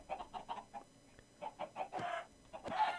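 Chicken clucking in a Minecraft modpack game, a series of short clucks in an uneven rhythm followed by a couple of longer, noisier squawks, fairly faint.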